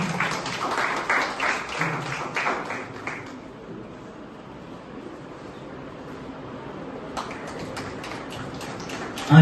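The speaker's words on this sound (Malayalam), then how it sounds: "കൈയടിക്കാം." An audience at an inter-school quiz competition at Navajyothi College gives a burst of clapping that fades into a quiet room, then starts up again near the end.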